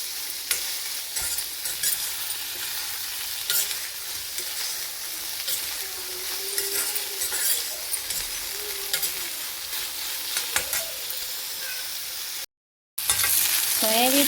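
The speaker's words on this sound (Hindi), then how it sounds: "तो इसे हम धीमी आंच में ऐसे ही भूनेंगे" Soybean chunks roasting in a pan over a low flame, stirred continuously. A soft steady sizzle runs under repeated scraping strokes, followed by a brief dropout near the end before the frying sound resumes.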